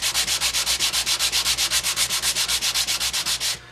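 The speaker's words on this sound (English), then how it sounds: "Just gonna take some 220 grit and quickly give it a sand." Sanding maple by hand with 220 grit sandpaper, about twenty-five quick, even back-and-forth strokes, loud and close, that stop abruptly just before the end.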